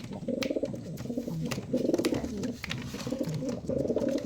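A homer or giribaz pigeon cooing in courtship mood, with close, throaty, rolling coos repeated in several bouts with short pauses between them.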